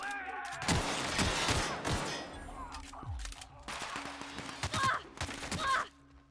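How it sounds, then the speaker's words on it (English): Suppressing gunfire from a companion in a sci-fi shooter game, bursts of rapid shots scattered across the moment with loud impacts at the start, interspersed with quieter mechanical and vocal effects. "Good suppressing fire, Parati."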